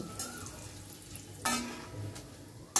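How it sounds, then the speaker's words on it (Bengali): Chickpea koftas frying in oil make a soft bubbling hiss, broken by a few sharp spatters and utensil clinks at irregular moments, heard up close with no talking. "বাকি কোপ্তাগুলোকে আমি একইভাবে ভেজে নিচ্ছি।"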